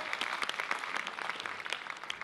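Audience applause fills the hall at a Dutch recitation contest, a dense, steady patter of many hands clapping close by with scattered sharper claps throughout.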